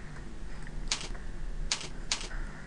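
Keys tapped on a computer keyboard while writing HTML code, a few sparse clicks at irregular intervals, close and clear over a faint steady background hum.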